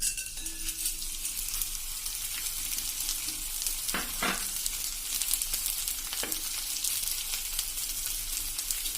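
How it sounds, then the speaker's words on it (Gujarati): Edible gum (gond) sautéing in a pan over a low flame makes a continuous close crackling sizzle, broken by a couple of brief scraping stirs, with no talking. "એ જ રીતે આપણે બાકી વધેલો ગુંદ પણ સાંતળી લેશું"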